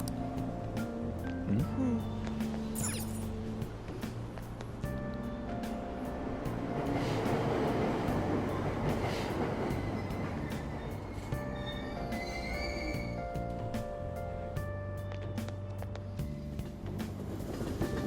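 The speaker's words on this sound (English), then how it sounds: "Train doors are now closing." A train at a subway station in Persona 5 Royal rumbles steadily throughout, with wheels and carriage noise building to a louder swell midway and game music and station tones layered on top.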